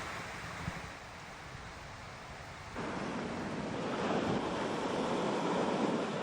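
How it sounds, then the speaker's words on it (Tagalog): Loud continuous rush of wind and surging high sea waves during bad weather, a dense roar that swells stronger partway through, with no voices. "Mataas pa rin kasi ang mga alon dahil sa masamang panahon."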